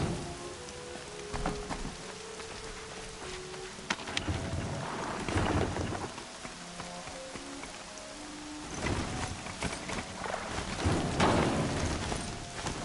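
Steady rain pattering on surfaces with rolling thunder rumbles in the video game Horizon Zero Dawn, the downpour continuous and the thunder swelling in two loud bursts.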